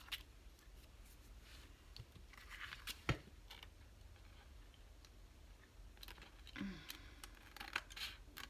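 Scissors snipping paper while assembling a junk journal, a few quiet, scattered clicks and cuts in a hushed room with light handling noise.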